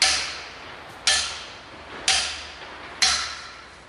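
Sledgehammer blows driving a metal fixture into the ground along a string line outdoors, four sharp, evenly spaced impacts about a second apart, each ringing and decaying quickly.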